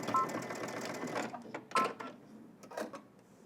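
A home sewing machine stitches a curved seam on a Simplicity S3037 garment in one quick burst of whirring, which stops and is followed by a few light clicks.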